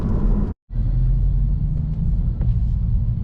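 A tuned 2022 Honda Civic Si, 11th generation and running 23 psi of boost, drones with a steady low engine rumble from inside the cabin, cutting out briefly for a shift from second to third before pulling hard again.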